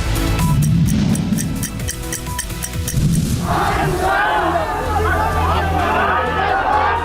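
A Bihar election rally crowd chants slogans against Nitish Kumar, a dense roar of many voices swelling in halfway through and continuing steadily after a brief rhythmic ticking start.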